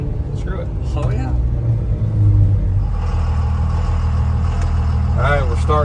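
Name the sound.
car engine revving at wide open throttle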